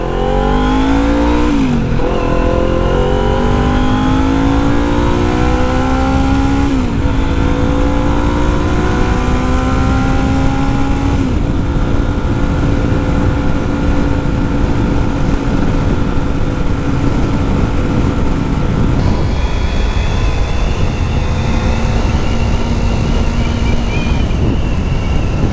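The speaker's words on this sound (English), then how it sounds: "We're about to test the iStunt exhaust with the baffle." A Kawasaki Z400 ABS fitted with a cheap iStunt slip-on exhaust with its baffle in, revving loud and close as it accelerates through the gears, the pitch climbing and dropping at each shift, with steady wind rush throughout.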